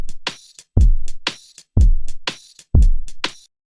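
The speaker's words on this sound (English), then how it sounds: "I've got this West Coast Drum Loop 26 over here" West Coast Drum Loop 26 plays at 85 BPM in Cubase: deep booming kicks land in a slow, laid-back groove, with crisp snare-like hits and ticking hi-hats between them, loud and clean with no other sound.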